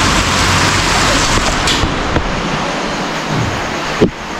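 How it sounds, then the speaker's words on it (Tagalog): Dense, steady broadband hiss of heavy rain pouring down in Bicol, loud and continuous, with a few faint clicks and thuds underneath. "Lakas ng ulan."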